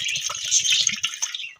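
Tender coconut water pours in a steady, splashing trickle for a second or so, then slows into a few drips.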